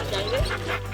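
Sled dogs of a very fast breed, out on a canine hike, give a short whimper and yip up close, over a steady low hum, lasting about a second.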